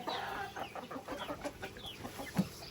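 Chickens on a farm plot of freshly tilled soil cluck softly while pecking at the ground, with scattered faint, distant calls and scratching and one slightly louder cluck near the end.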